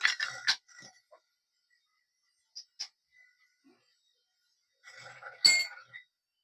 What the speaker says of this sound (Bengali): এবার একটা সতেরো নম্বর রেঞ্চ দিয়ে ঢাল রেঞ্চ দিয়ে পিছনে ডাম্পার নাটটা খুলবো